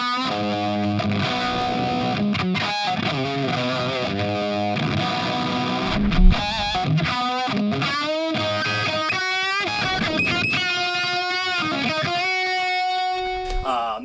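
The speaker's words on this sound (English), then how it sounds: "the first pedal in the series, which is the Gluttonous Fuzz" Electric guitar run through a Poison Noises Gluttonous Fuzz pedal, the standard two-knob version: thick, saturated fuzz chords and riffs played steadily and loud for the whole stretch, with sustained buzzy notes and a brief louder hit midway.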